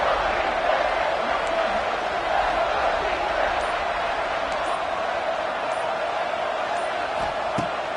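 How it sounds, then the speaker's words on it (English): A football stadium crowd at a Michigan at Ole Miss game keeps up a steady, distant roar throughout, with a commentator talking over it. "gosh almighty, this crowd is ready."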